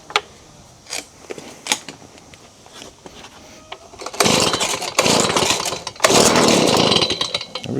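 A Stihl BG55 leaf blower on choke is pulled several times with short sputters, then the two-stroke engine catches and buzzes loudly close by, its pitch surging and dropping as it runs.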